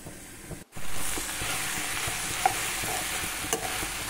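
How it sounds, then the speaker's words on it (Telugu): Okra (bendakaya) fry being stirred in oil over high heat, a steady loud sizzle with scraping spatula strokes after a brief pause near the start. "హైలోనే ఉంచుకొని కలుపుకోండి, ఆయిల్ ఉంటుంది కాబట్టి."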